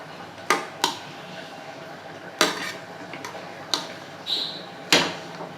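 Cooked white biryani rice gently stirred in a pot, several sharp metallic clinks of a spoon against the pot spaced irregularly over quiet kitchen background.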